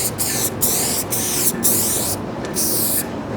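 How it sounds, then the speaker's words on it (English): Molotov spray paint can hissing out thick paint in several bursts, strong broadband spray sounds with short gaps between them, close and loud with no voices. "Watch this spray."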